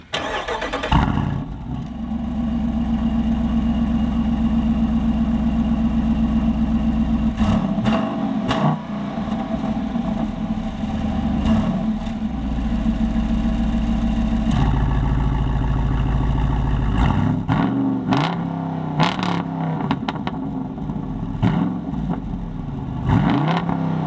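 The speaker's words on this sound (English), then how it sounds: "they put a performance exhaust in" A Jeep Wrangler Rubicon 392's deep V8 engine, fitted with an aftermarket performance exhaust, idles with a throaty exhaust rumble, then revs up loudly several times, each burst falling back to a steady idle.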